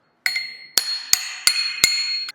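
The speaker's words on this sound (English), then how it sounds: "let me hammer that, ensure it's square" Hammer blows on a steel front fork part of a VW-powered UFO trike being squared up before welding: five sharp metallic strikes, each ringing briefly, spaced unevenly about a third of a second apart, close and loud.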